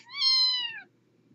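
A single clear, high kitten meow, close and loud, rises and then slides down over most of a second before falling quiet.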